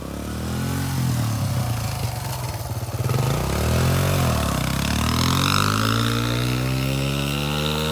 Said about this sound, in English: this is a video of me riding my brand new dirt bike